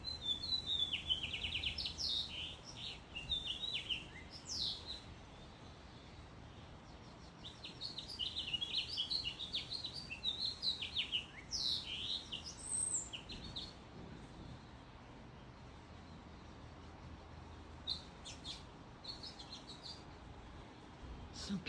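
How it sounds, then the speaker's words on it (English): Birds chirp and twitter in bursts of high, quick calls over a soft steady wash of flowing water outdoors in Sedona, fairly faint and calm, with brief pauses between phrases. "The water and the bird."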